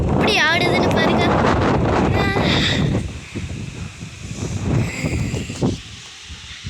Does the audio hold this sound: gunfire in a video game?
no